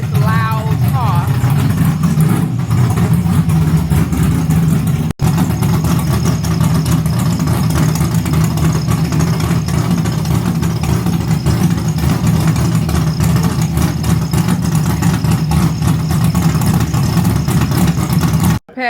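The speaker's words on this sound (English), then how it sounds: "go out here and let y'all see this loud car" A car engine idles loudly and steadily up close, a continuous deep rumble that holds for the whole stretch.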